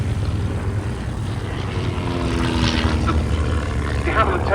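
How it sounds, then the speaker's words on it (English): A de Havilland Chipmunk aeroplane flying a display crossover, its propeller engine droning steadily at a distance with a slowly shifting pitch as it passes. "The Chipmunk was always a display aeroplane as they come in for a crossover."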